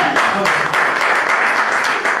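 A church congregation breaks into sustained, loud applause during a French-language sermon, the dense clapping steady and close throughout with no voices over it.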